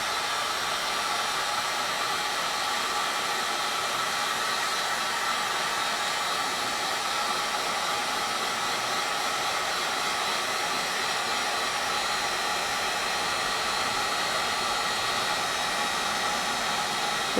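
A heat gun blows hot air for shrink wrap on fuel pump wiring, a loud, constant close-up roaring rush of air that holds steady without a break.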